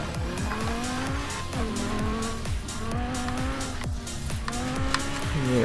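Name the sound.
Lamborghini off-roading through forest in video game Forza Horizon 4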